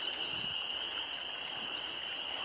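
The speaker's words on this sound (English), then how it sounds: "You can hear the frogs are calling out." Frogs call at a pond in early spring with ice mostly melted, a steady high-pitched chorus of peeping trilling without pause, faint and distant under light outdoor ambience.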